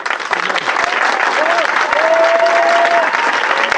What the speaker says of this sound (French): On peut acclamer Jésus-Christ